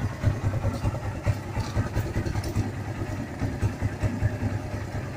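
Kawasaki Barako 175 motorcycle idling, a quiet, even low putter with a steady pulsing beat throughout and a faint rattle on top.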